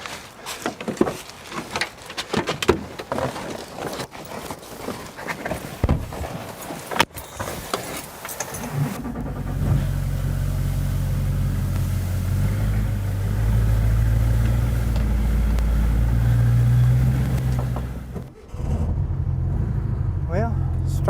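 An old, long-abandoned VW Beetle pulling out of a barn: clattering knocks and bangs give way to a steady, loud, low engine rumble that holds for about ten seconds before briefly cutting out.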